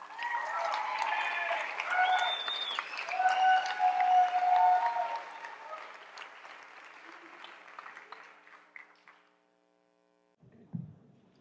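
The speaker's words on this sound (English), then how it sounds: "please give a big round of applause for Katie Mason" An audience at a talk gives a speaker a sustained round of applause that holds for several seconds, then fades to silence. A single soft knock follows near the end.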